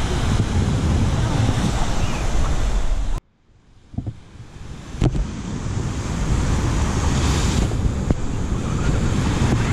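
Ocean surf rolling onto a shore with the tide coming in, a steady loud wash of waves heavy with wind buffeting the microphone, broken by a brief quiet gap before the roar resumes.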